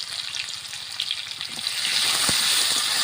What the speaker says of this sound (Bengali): এবার আমি আলু ভেজে নেব